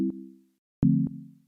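Two short, clean low sine wave synth notes without a pitch envelope, pure and hum-like, each beginning with a small click and decaying, separated by a brief silence.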